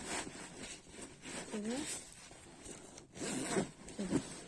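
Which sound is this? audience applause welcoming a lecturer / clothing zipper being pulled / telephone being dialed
clothing zipper being pulled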